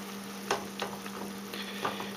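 Meat crisping in a pan with olive oil, a steady close sizzle with a few sharper pops and spatters breaking through a constant hum.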